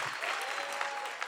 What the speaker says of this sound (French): Je vous demande d'applaudir bien fort notre tête de liste, Anne-Azilise Petit-Louboutin.